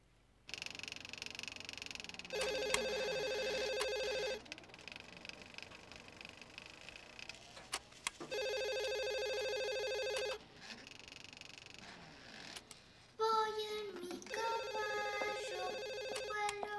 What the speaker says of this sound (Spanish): ¿No vas a contestar el teléfono?